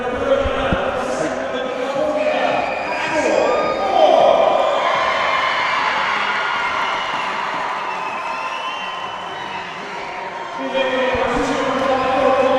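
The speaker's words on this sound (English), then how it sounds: "There's so much audience noise in the crowd." A large crowd at a pro speedskating race in Reno, Nevada cheers and roars in a steady, loud wash that swells and eases, with whoops rising out of it and voices talking over the din.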